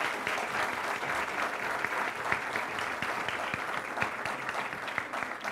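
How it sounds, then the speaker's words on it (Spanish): An audience gives steady, sustained applause for a student presenter, a dense patter of clapping from many hands at a moderate distance. "Un fuerte aplauso para Emma."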